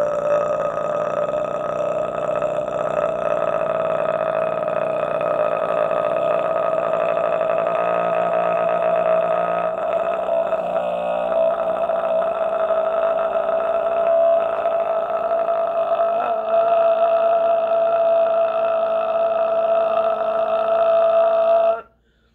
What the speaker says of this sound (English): when you burp, sometimes when you just let it out naturally, you can hear what vibration it is